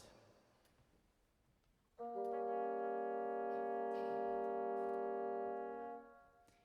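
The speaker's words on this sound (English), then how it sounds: "we have a chord that sounds in very low instruments. We have the two bassoons" A low, dark sustained chord from two bassoons and the second oboe in Smetana's Moldau, entering abruptly after a quiet pause and holding steady for about four seconds before fading.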